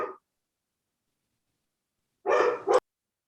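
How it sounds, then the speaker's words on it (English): A recorded dog bark plays to scare off burglars: a short yelp, a long pause, then a louder double bark close by, with no voices over it. "I'm trying to block the dog out."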